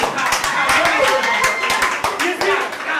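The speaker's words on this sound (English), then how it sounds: "A round of applause." Sparse clapping from a small group at a wiki bootcamp gathering, a loose scatter of hand claps running steadily throughout with voices murmuring underneath.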